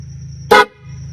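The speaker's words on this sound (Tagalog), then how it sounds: "Air horn o busina, parang ganun to." An air horn hidden inside a backpack gives one short, loud blast, muffled by the bag, against a low background hum.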